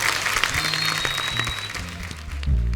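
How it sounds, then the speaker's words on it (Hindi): Studio audience applause on a comedy talk show, steady clapping throughout with a low musical bed underneath, swelling slightly at the end. "एक बार वरुण और सारा के लिए जोरदार तालियां।"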